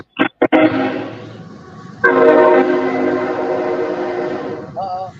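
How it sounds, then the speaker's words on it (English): Train horn sounding close and loud as a train passes, opening with short chopped blasts, then long sustained horn tones over the rumble of the cars, ending with a warbling horn note; no talk over it. "There goes the train."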